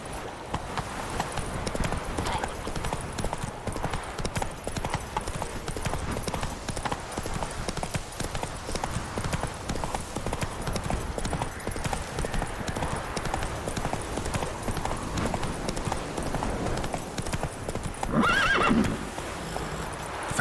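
Hooves pound in a fast, continuous gallop as a horse runs in the Witcher 3 game, the loud rhythmic clip-clop holding steady throughout, with a whinny near the end.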